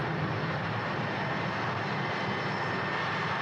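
A Comet jet airliner with four Rolls-Royce Avon engines produces a dense, steady roar that stays loud and unchanging throughout, with no talking.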